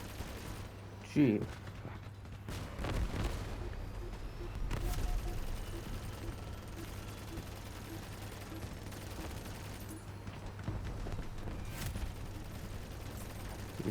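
Gunfire from an opponent's weapons slams into a vehicle's shield in the Crossout combat game, a steady rattling barrage with engine hum beneath and a voice speaking over it.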